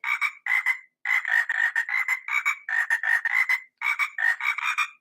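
Toy frog puppet croaking in bursts of rapid, rasping ribbits, loud and close, with short pauses between runs and no talk.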